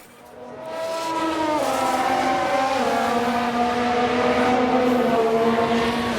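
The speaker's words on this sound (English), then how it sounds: "Was that a lock-up on the track?" A Formula 1 race car in the F1 Manager 2022 racing game, 1990s Tyrrell season, with engine whine rising and falling in pitch over a sustained tyre-squeal of a locked-up wheel, loud and continuous.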